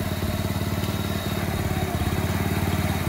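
A Honda FF300 tiller engine runs steadily nearby, a loud, even, rapid mechanical chugging with a clattery edge that holds constant throughout.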